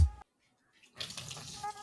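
Water poured from a cup into a bowl as the liquid for an old-fashioned cake batter made with wheat flour, a brief splashing pour after a short silence.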